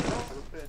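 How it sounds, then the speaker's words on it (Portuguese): Bursts of gunfire crackle in the Free Fire battle royale video game, a brief flurry of shots mixed under a player's talking. "Tem tiro, muito tiro aqui em cima."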